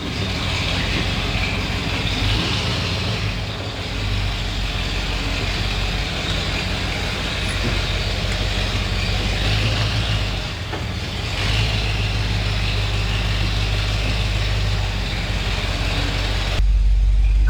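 A 1977 Ford 4x4 truck with slightly sticky brakes, run for the first time after 20 years in a barn, drives with a steady, close engine rumble that continues without a break for the whole stretch.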